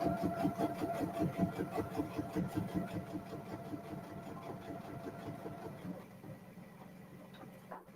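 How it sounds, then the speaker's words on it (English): A sewing machine runs at a quiet, steady pace with a regular mechanical chugging rhythm that slows and fades out near the end. "She's sewing."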